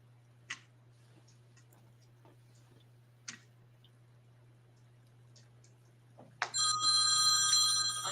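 A phone rings from an unknown caller: a few faint ticks and clicks in a quiet room, then a loud, bright electronic ringtone starts near the end and keeps sounding.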